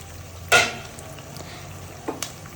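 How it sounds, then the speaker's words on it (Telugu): Homemade ginger garlic paste hitting hot oil in a pan for fish gravy, a sharp burst of sizzle followed by a quieter steady frying hiss and a few stirring clinks, heard close with no voices. "ఇది మనకి లైట్గా ఫ్రై అయ్యే వరకు అలా ఫ్రై చేసుకోవాలి."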